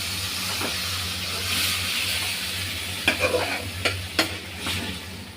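Leafy greens dropped into a hot pan and stirred while frying, a steady sizzle with a few sharp scraping stirs near the end, close and fairly loud, no talk.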